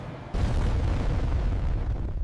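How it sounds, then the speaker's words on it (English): A supersonic jet's sonic boom arrives as a sudden heavy onset after a brief quiet moment, then a deep, broad rumble that holds steady for the rest of the clip. "That boom is why supersonic flight over land has been banned for decades."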